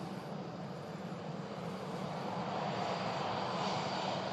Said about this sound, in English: Climbing out behind the Concorde hangar here at the runway visitor park, the Virgin Atlantic